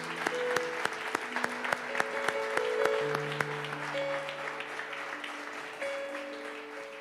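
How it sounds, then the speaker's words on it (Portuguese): A church congregation at a Sunday service claps together in a rhythmic burst, close and lively, with sustained organ or keyboard chords holding underneath. "Aplauda ao Senhor, querido, porque Ele merece."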